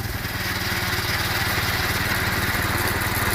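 A lawn tractor converted into a propane-fuelled go-kart chugs at a steady, fast idle, its small engine pulsing rhythmically and loud, close by and uninterrupted.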